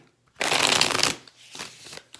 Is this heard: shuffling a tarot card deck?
yes